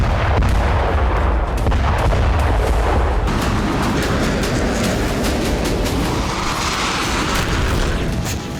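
Ballistic missiles and drones explode during an attack in the Red Sea, heard as a dense, continuous roar of booms and rumbling blasts, loud and sustained throughout.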